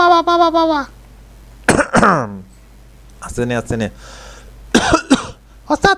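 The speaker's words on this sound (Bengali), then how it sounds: "কাশি লাগছে কেন আপনার" Several short coughs and throat-clearing bursts between bits of talk inside a bus nearing a terminal, with a low steady engine hum beneath.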